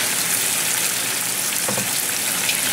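A splash of wine hitting a hot pan, a steady loud sizzle throughout with a brief gurgle of liquid partway through.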